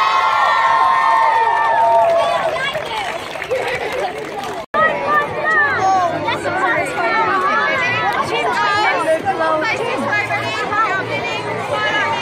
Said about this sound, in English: can we give her a massive round of applause?